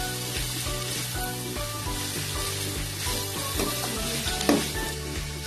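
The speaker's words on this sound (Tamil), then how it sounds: "எல்லாத்தையும் நல்லா ஒரு பெரட்டி விட்டுக்கோங்க" Drumstick leaves and grated coconut stir-fried in a pan, with a steady sizzle under repeated scraping strokes of a spatula, fairly close and even, no talking.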